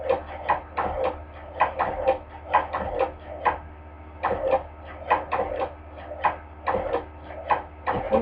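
Hand crank cobbler sewing machine stitching at a quick pace, a close, steady run of sharp mechanical clacks and ticks repeating in an even rhythm, heard alone with no talking.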